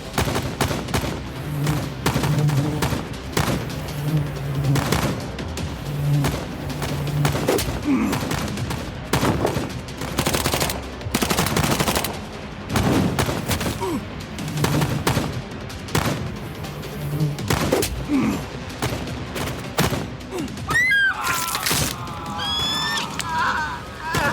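Gunfire erupts in bursts across a tense standoff, with repeated sharp shots and rapid volleys mixed with shouting voices, one volley following another, the shooting fading into higher squealing tones toward the end.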